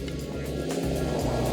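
A Skoda Kodiaq vRS, a large SUV with DSG automatic transmission, is driven on a track and on ice, giving a steady loud engine drone with shifting low tones for a short stretch.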